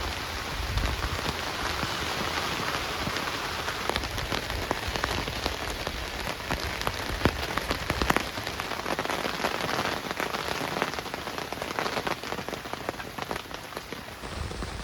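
Heavy rain pours steadily onto a campsite at a lakeside park, a dense unbroken hiss of drops drumming on surfaces close by, with no voices throughout.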